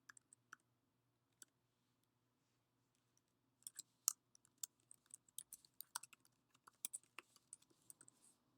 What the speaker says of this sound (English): I'm going to type in all of the information that I need for Part